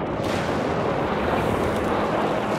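Dense, continuous battlefield roar of artillery and gunfire in the World War II strategy game Company of Heroes 3, a loud rumbling barrage with no distinct individual shots standing out.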